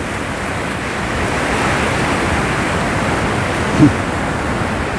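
Water rushes in as a broad, steady wash of noise, like waves or surf arriving, loud and continuous with a small bump near the end and no voices.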